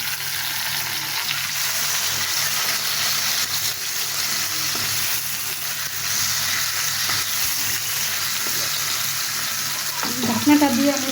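Fish frying in a hot pan as part of an easy barbecue recipe gives a loud, continuous close sizzle, with a brief clatter near the end as the pieces are flipped; no talking.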